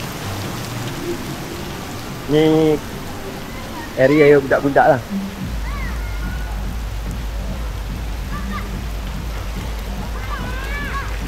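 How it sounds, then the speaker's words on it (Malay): Heavy rain pours at the Lost World of Tambun in Malaysia: a steady, dense roar of falling water under intermittent voices of adults and children. "Sekarang tengah hujan lebat."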